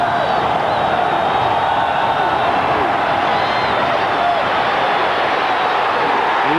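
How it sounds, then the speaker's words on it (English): Dense roar of a college football stadium crowd at an Auburn Tigers versus Ole Miss Rebels game, a steady loud wash of cheering and shouting that holds throughout without a break. "Listen to this crowd."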